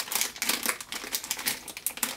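Close, crackly crinkling of a stiff plastic sand bag being handled and pulled open, in rapid irregular bursts with no talking.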